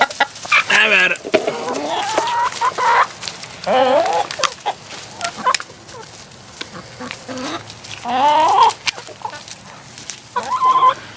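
Chickens cluck and squawk excitedly while pecking at fresh-harvested beet tops, several birds close by with bursts of overlapping calls and brief pauses between.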